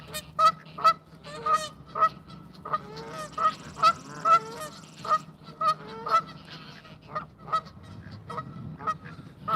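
Close honking calls from a waterfowl bird being hand-fed at a fishing spot, repeated sharp honks in an irregular steady series, loud and near, with a faint voice underneath.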